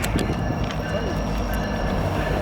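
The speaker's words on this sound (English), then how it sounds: "The train is coming, bruh." Train rumbling nearby with a steady low roar and faint metallic tones, building as it approaches.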